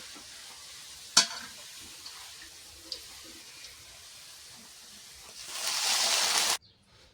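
Browned onions sizzle softly in a pan, with a few sharp clinks. Then water is poured in and the sizzle surges into a loud rushing hiss for about a second before it stops abruptly.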